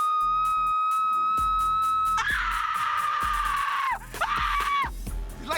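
A volunteer screams on request, giving one long, loud, high-pitched scream that wavers and then trails off. A sustained tone leads into it, and brief sounds follow.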